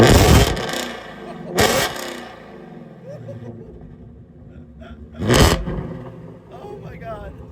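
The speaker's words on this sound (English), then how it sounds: "Maurice, but I'm telling you right now, that's how every Mustang should sound." Three loud, sharp revs of a modified Ford Shelby GT350 Mustang's flat-plane-crank engine with exhaust valves open, each burst roaring up and then rumbling down as it fades.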